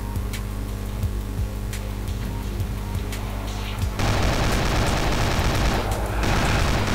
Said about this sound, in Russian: Кстати, кто-то в меня опять стреляет.